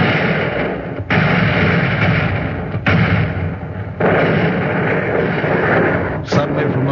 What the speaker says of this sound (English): enemy coastal guns were in action